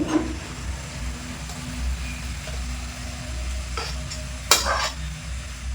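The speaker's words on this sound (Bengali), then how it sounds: "এবার দিয়ে কিন্তু একটা প্লেটে ঢেলে নেব" Tart-sweet-spicy chalta (elephant apple) pickle, cooked and off the heat, stirred and poured from a pan onto a plate: soft steady scraping and a faint lingering sizzle, with a sharp utensil clink near the end.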